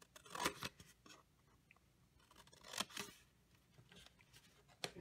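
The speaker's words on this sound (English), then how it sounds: "I'm gonna just take my paper snips and I'm gonna cut up on those score lines." Paper snips cut through cardstock along score lines in a few crisp, separate snipping bursts with quiet pauses between them, close and clear with no talking.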